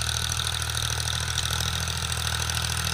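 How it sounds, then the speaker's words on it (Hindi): A Powertrac 445 tractor engine pulls a 7 ft Sonalika rotavator in low second gear, giving a steady, loud, continuous diesel drone with no drop in revs and no talk. "एकदम बिंदास ट्रैक्टर चल रहा है, कोई भी आरपीएम ड्रॉप नहीं"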